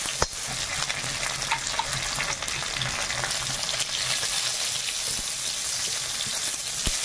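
Mustard seeds, dry red chillies, bay leaf, cashews and raisins fry in oil with a little ghee for khichuri, a continuous close, bright sizzling hiss with occasional crackles and pops, steady throughout and without talking.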